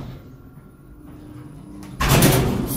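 Elevator doors slide shut with a low rumble over an ongoing hum, then a loud broadband whoosh of motion at the end, all close by.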